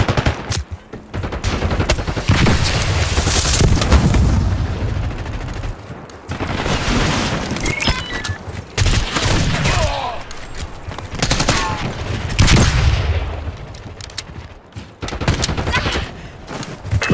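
Sustained automatic gunfire in the video game Call of Duty Black Ops 6, dense rapid bursts and overlapping shots near and loud throughout, with brief lulls and radio-style voices speaking under the shooting.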